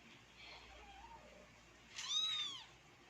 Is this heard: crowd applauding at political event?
no